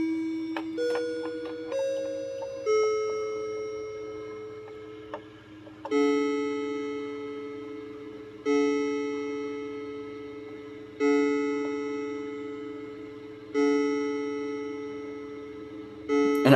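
A Daniel Dakota mantel clock chimes a sequence of clear, ringing bell tones, with each strike decaying slowly into the next in a steady rhythm, close and alone.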